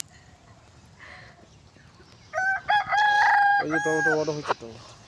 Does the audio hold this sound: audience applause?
no